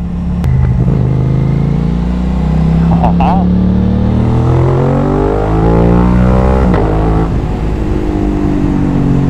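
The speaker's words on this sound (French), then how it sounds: "La moto elle aimerait vraiment partir, tu sais." An Aprilia RS 660 motorcycle rides through city traffic, its engine droning loudly and close with rising and falling pitch as it accelerates, accompanied by a steady rush of wind noise.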